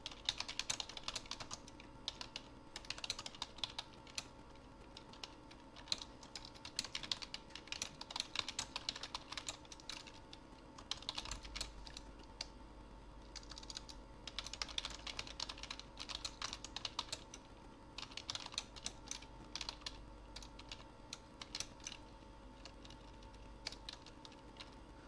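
Continuous typing on a computer keyboard, quiet and close, with irregular bursts of rapid key clicks and short pauses between them.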